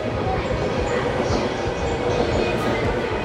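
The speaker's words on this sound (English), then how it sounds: "Here's our train coming." A train rumbles steadily close by as it pulls into platform 4 at a Japanese station, a dense low roar with faint clattering and a brief high squeal.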